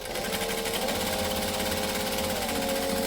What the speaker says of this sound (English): we're going to top stitch along each edge